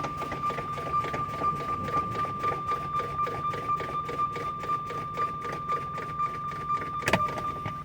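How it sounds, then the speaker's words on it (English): Rapid repeated air pulses from a truck's air brake system as the brakes are fanned down during an in-cab pre-trip inspection, with a steady tone throughout and a sharp pop near the end as the valve knobs release. "I'm gonna keep on fanning the brakes down until they pop out at 20 to 40 PSI."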